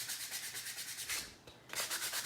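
Painted wood pumpkin pieces are sanded by hand in quick, rhythmic back-and-forth rubbing strokes, close and steady, with a brief pause partway through.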